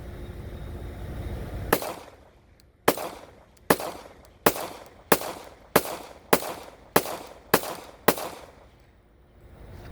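Ten loud, sharp pistol shots from a Glock fitted with a Guncrafter Industries .50 GI conversion slide ring out in a steady, evenly spaced string, each crack followed by a brief echo, with no talking.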